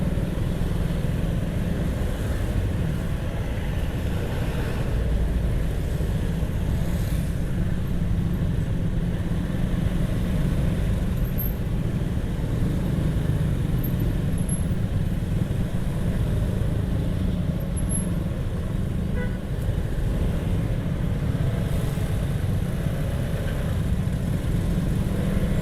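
Slow traffic jams a narrow road lined with an excavation project, cars and motorcycles crawling along in a steady low engine drone that rumbles on without a break, with no one speaking.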